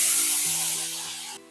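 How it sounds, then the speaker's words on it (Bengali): Ginger, garlic and onion paste hits a hot pan for a Bengali vetki fish curry, giving a steady broadband sizzle that gradually fades, with a low tonal hum underneath and no talk. "এবার দিয়ে দেব আদা রসুন পেঁয়াজের পেস্ট।"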